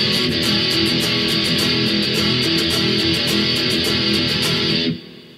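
Distorted electric guitar power chords strummed in a steady, driving rhythm of a chorus, with bright rhythmic scratches on top, loud and continuous, stopping abruptly near the end.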